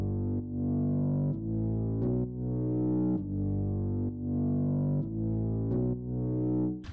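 A gritty GMS Nails synth bass holds low root notes in an EDM track, its volume dipping and swelling in a steady sidechain pump about every second, loud and alone.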